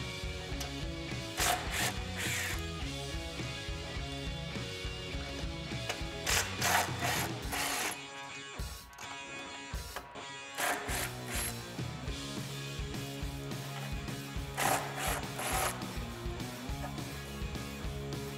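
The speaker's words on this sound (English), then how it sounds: "we're just gonna have to remove these couple of bolts from the top to get the factory bumper off" Ratchet wrench loosening Torx bolts on the factory bumper of a 1987-2006 Jeep Wrangler YJ or TJ: steady clicking pawl bursts, close and fairly loud, with short pauses between runs and no talk.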